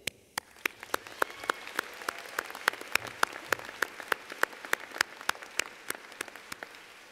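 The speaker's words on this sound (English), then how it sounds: "Let's take a moment to give them a round of applause" An audience claps at a Rutgers School of Nursing Camden commencement in 2018, heard as a sparse, fairly steady run of sharp individual claps in a large hall, with no speech.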